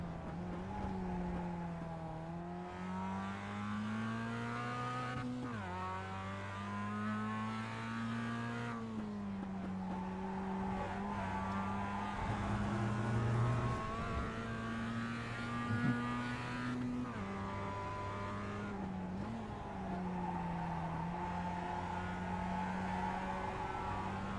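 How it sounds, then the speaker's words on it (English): A Mazda MX-5 race car laps the Brands Hatch GP circuit in the iRacing simulator, its engine droning steadily and dipping and rising with each gear change, with no talking. "who's going to show us a lap around this Brands Hatch GP circuit from the cockpit"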